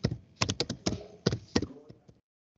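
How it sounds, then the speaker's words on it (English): Someone types a name on a computer keyboard to log into an online course site, producing a run of crisp, close keystrokes in uneven clusters that stop near the end, leaving a short silence. "So type my name."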